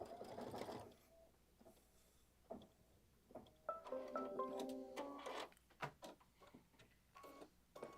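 A sewing machine stitches on rope, running in short bursts broken by pauses, with a brief whirring run near the middle and soft clicks between stops, close and fairly quiet.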